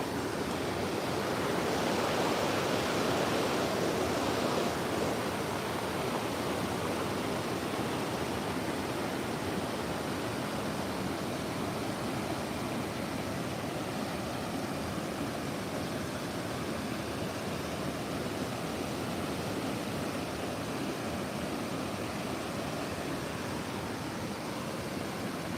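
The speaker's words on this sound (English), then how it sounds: "so I'll be quiet for a minute, just so you can watch this beautiful rapids" Rapids on a woodland river rush in a steady, dense roar that stays loud and continuous throughout, with no voices over the flowing water.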